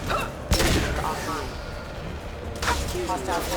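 A single heavy weapon shot rings out near the start in a Mass Effect 2 firefight, a sharp thump followed by muffled combat noise, with another burst later amid ongoing game sounds and voices.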